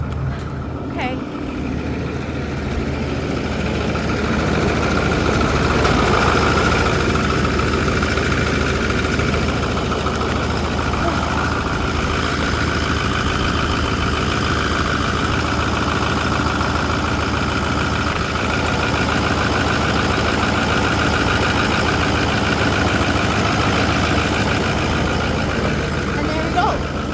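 A 2008 Ford F-350 diesel truck idles on a freezing cold day, a steady low rumble with a constant mechanical drone that holds unchanged throughout, close and fairly loud.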